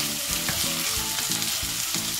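Peas frying in a pan with ham and onion, sizzling loudly and steadily while being stirred, with repeated scraping strokes from the stirring; no voices.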